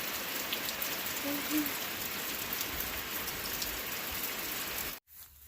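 Steady rain falls outdoors on a rainy day, a dense even hiss of drops on surfaces that continues without pause until it cuts off abruptly near the end.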